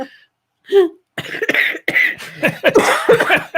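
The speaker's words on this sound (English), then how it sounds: "Got her coughing again." A woman coughs in several harsh, rapid bursts close by, a short hacking fit with brief gaps between coughs.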